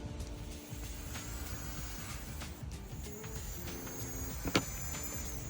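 Small hobby electric motors soldered straight to battery packs for a gauntlet build spin with a steady whirring whine, close and fairly even, with one brief sharp click near the end.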